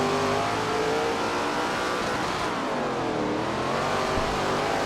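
Race car engines in SRX The Game roar steadily and loudly, revving with shifting pitch as the cars hold speed on track, with no talk over them.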